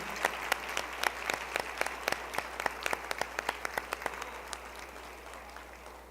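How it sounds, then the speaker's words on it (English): Scattered hand claps from an audience at a 2019 MLK program honoring community service award recipients, sharp individual claps ringing out over a low room hum and thinning toward the end. "Let's give them a round of applause, please,"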